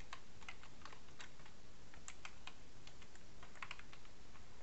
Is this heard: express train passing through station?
no